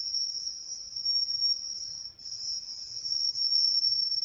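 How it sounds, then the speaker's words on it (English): A cricket inside a cabin chirps in a steady, continuous high trill, close and clear, with a brief dip midway and no talking. "that is a cricket inside my cabin."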